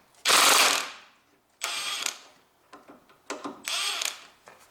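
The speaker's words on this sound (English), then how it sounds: "Now I install my impact driver." An impact driver rattles loose the drive shaft bolts on a Honda Civic with a 1.8 R18A1 engine, one long loud hammering burst followed by several shorter ones with quiet gaps between them, close and harsh.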